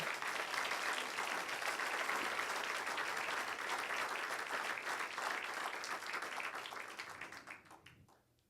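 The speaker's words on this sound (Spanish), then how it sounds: "Puede darle un aplauso al nombre de Jesús" A church congregation claps for the name of Jesus during a Spanish-language service, dense steady applause that thins and fades out over the last second or so.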